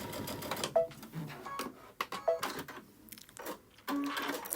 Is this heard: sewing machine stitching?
yes